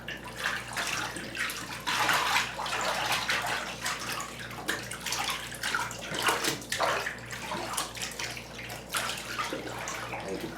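A wool blanket is stirred and swished through water in a bathtub, making repeated sloshing and splashing surges with trickling in between. The sound is close and moderately quiet, with no voices.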